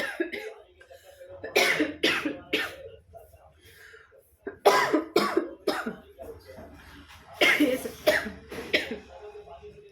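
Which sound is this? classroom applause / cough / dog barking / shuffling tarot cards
cough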